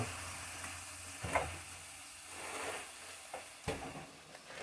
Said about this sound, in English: So we'll get our garlic kind of brown in there a little bit.